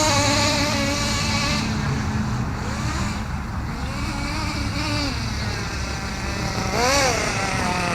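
A Kyosho USA1 RC monster truck drives at partial throttle outdoors on a yard with a small hill; its motor whines loudly and continuously, pitch rising and falling as it revs.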